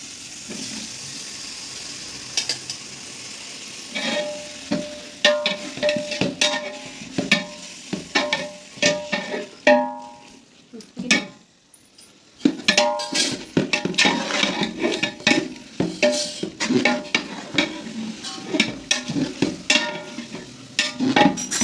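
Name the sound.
sliced tomatoes frying and being stirred for chicken biryani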